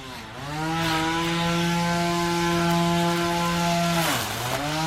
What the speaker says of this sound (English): it's a little Makita battery powered grass trimmer, and it works great.